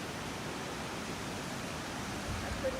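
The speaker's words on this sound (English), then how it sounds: "Lower Pawness waterfall, which leads into the river" Lower Pawness waterfall, known as Devil's Cascade, roars as a steady, dense wash of falling water, constant and unbroken throughout with no voices.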